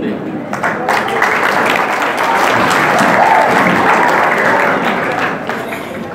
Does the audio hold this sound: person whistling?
no